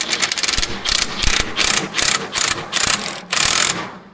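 A hand ratchet tightening the front subframe bolts on a Mk5 VW Golf GTI, loud rapid clicking in about seven repeated bursts with short pauses between strokes, close up.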